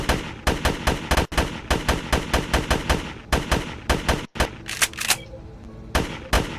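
Rapid bursts of assault rifle fire from a weak gun in the sci-fi survival video game GRAV, loud and close, with sharp shots in quick strings and short gaps between bursts.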